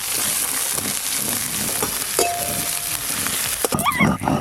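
Five-spice tempering, dried red chillies and chopped onion sizzle in hot mustard oil, a loud continuous crackling fry with a few stirring scrapes and clinks near the end.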